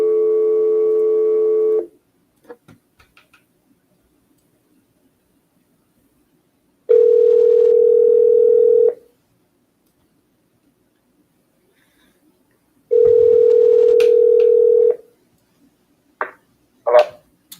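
An outgoing telephone call rings back in long, evenly spaced tones about two seconds each, separated by silence, loud and close, with brief clicks and a faint voice near the end.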